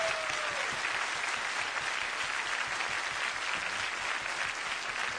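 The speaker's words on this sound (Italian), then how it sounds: "facciamo un applauso a Raffaella Carrà" A television studio audience applauds steadily throughout, a dense, loud and even wash of clapping with no pauses.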